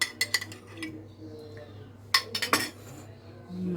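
A metal spoon clinks and scrapes against a bowl while stirring chocolate frosting thinned with milk, in two bursts of rapid taps separated by a quieter pause.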